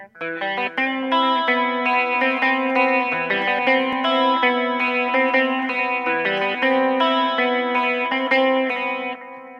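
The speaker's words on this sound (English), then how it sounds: "The basis of this song is going to be this guitar riff that I thought of the other day." A distorted, effects-laden electric guitar plays a repeating cumbia-style riff with a chorus-like shimmer, loud and steady throughout with no voices.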